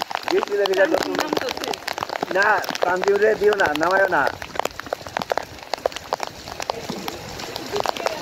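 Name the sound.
rain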